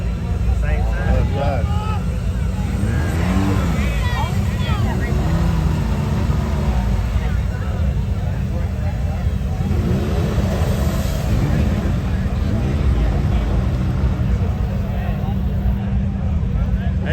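A truck stuck in a mud hole at a harvest festival, one-wheel drive with a broken axle, its engine roaring and revving continuously and loudly while people talk and shout over it.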